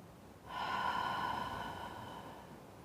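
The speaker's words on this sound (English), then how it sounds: "Take a big breath in, let it out" A single deep breath drawn in sharply and let out slowly, close and quiet, a breathy rush that rises and then fades away alone.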